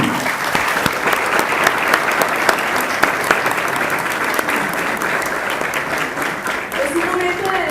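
Loud, sustained applause from a crowd at a journalists' day ceremony in Costa Rica, many hands clapping densely with a few sharper claps standing out and faint voices near the end.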